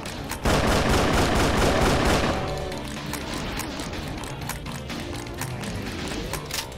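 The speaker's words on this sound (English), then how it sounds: "Ah, the semi-automatic shotgun. I remember this gun." Semi-automatic shotgun firing in The Golden Souls video game, a rapid string of loud blasts that gives way to echoing, clattering impacts and lighter shots.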